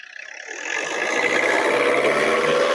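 A used car's engine, kept clean, builds from a rough idle into a loud, steady, close-up rev that holds high.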